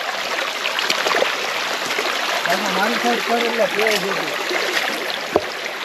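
Steady rushing of a flowing forest stream among slippery rocks near Palitana's Shetrunjay hills, under music with a singing voice.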